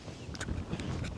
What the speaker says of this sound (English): It's windy today, to say the least.